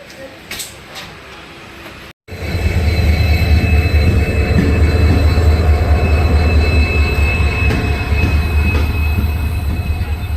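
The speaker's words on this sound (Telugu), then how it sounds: "ఇప్పుడు వచ్చింది కదా ఆ ట్రైన్ నెంబర్ వచ్చేసి 1741009 ఆదిలాబాద్ హజూర్ సాహిబ్ నాందేడ్ ఆదిలాబాద్ ఇంటర్సిటీ ఎక్స్ప్రెస్" Adilabad–Hazur Sahib Nanded Intercity Express pulling into a station: a loud, steady rumble of railcars and wheels rolls in after a brief quiet start, with squealing wheels and a high whine.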